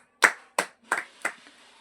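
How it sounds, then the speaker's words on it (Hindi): Children in a classroom give a short round of clapping for a classmate's correct answer, four distinct group claps spaced evenly over two seconds, close and fairly loud with no talking. "ताली बजाओ उसके लिए"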